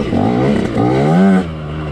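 A dirt bike rides single-track trail, its engine droning close and steady with a rising rev near the middle, then easing back.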